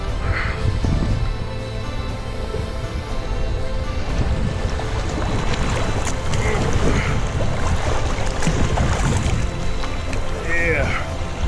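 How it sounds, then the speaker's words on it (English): River rapids rush and churn in a continuous loud wash around a log raft floating downstream, with a voice briefly heard over the water. "I'm coming up on some rapids."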